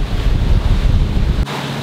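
Waves break and strong wind buffets the microphone aboard a sailboat moving at about 12 knots near the shore, a loud, rushing roar that drops off abruptly near the end.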